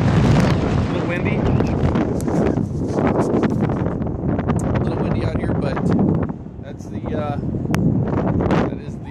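Gusty wind buffets a microphone outdoors at an airfield beside a parked Antonov 124 cargo plane, a steady loud rumble throughout with brief dips and a voice talking over it.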